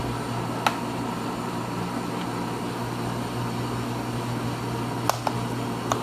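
A Pratt and Whitney lathe's power feed runs with a quiet, even mechanical hum, marked by a few faint clicks.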